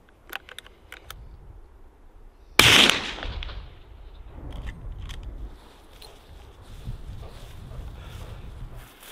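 .270 rifle fired at a target outdoors, a single sharp, loud crack with a brief decaying echo, set among quiet background ambience and faint rustling.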